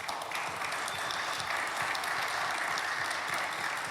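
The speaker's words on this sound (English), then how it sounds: "ask you to give them a big round of applause" Audience at a La Sierra gathering applauding the contributors, a dense, even round of clapping from many hands, sustained throughout at moderate volume with no voices over it.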